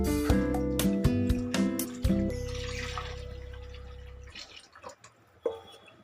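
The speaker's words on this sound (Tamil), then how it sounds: "இந்த கலந்த பேஸ்ட்டை நம்ம இப்போ இது கூட ஆட் பண்ண போகிறோம்." Tamarind paste mixed with chili, coriander and turmeric powders pours into a pan for a fish curry, with splashing, dripping liquid and clinks of a utensil, loud at first, then quieting with a final clatter.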